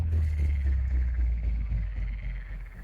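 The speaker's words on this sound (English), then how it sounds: "Ribbit, ribbit, what's that sound? It's our amphibian friend, the frog, hanging out by the pond." A frog croaks by a pond, low steady croaking that carries loud and continuous throughout with no talking.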